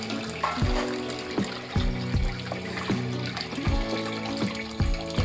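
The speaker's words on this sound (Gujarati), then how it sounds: "કંટોલાને આપણે થોડાક ચોખ્ખા પાણીએ ધોઈ લઈશું" Kankoda (spiny gourd) is rinsed under a steadily running tap in a kitchen sink, with repeated sloshing splashes as the gourds are turned and rubbed in the stream.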